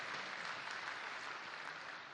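Applause from the audience at a games company keynote during a fan convention, a steady broadband patter of many hands filling the whole stretch at low overall level, with no voices over it.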